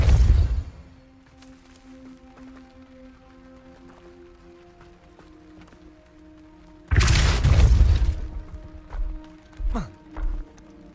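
A Depulso force spell goes off in the video game Hogwarts Legacy, a sudden loud whooshing boom that tails off into a few thuds. A low music bed hums underneath, and no one talks.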